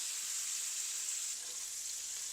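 Pineapple pieces sizzle steadily as they fry and toast in hot oil, a dense continuous hiss with no voices over it.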